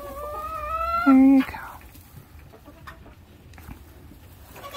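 A broody hen clucks and gives a rising, drawn-out call close by. A man's short remark overlaps it, and quieter soft clucks and rustling follow.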